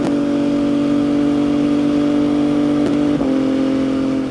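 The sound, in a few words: MV Agusta motorcycle engine revving during test ride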